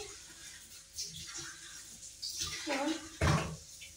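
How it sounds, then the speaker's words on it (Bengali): Leafy greens being rinsed in water in a home kitchen, soft splashes and clinks of a pot or bowl, faint and intermittent, with occasional brief talk. "শাকটা ধুয়ে দিতে হবে।"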